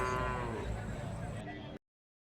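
Cattle low at the Seenapuram cow market, where heifers and dairy cows are for sale. One drawn-out, fairly faint moo carries over market background noise for under two seconds, then cuts to silence.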